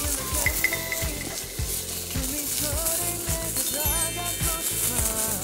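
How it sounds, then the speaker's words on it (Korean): Meat sizzles and fries loudly on a pan while camping, with steady crackling and occasional utensil clinks, close up. "바로 고기를 구워 볼게요"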